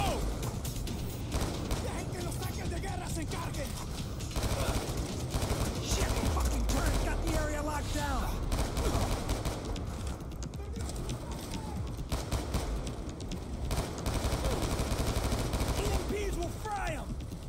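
Rapid gunfire in the video game Black Ops 2, dense bursts of shots and clattering action running nearly continuously, with people talking over it throughout.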